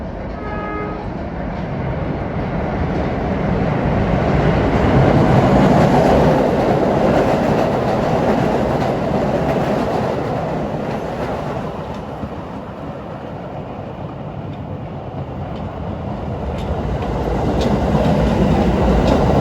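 A Staten Island Railway deadhead train passes a station at close range, a loud sustained rumble of wheels and rail clatter that swells, eases slightly, then builds again.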